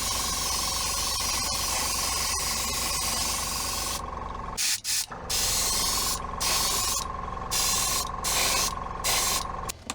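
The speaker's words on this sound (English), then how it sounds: "So instead I've loaded up the airbrush with some umber shade. And I start by coating everything from beneath." An airbrush sprays umber shade paint onto model terrain catwalks, hissing continuously at first and then in a series of short, close bursts separated by brief pauses.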